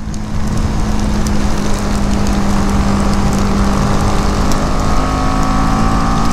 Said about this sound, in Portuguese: agora sim que veio a chuva